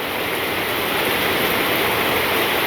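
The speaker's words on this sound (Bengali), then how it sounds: "বৃষ্টি থামে না, কোনো মতেই থামে না।" Heavy rain pours down over a village in a dense, loud, unbroken roar of hiss with no pauses or voices.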